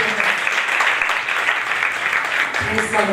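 A church congregation at a first-anniversary service of an Assemblies of God church in Malir, Karachi, breaks into steady, dense applause, many hands clapping continuously at close range, with a voice briefly emerging near the end.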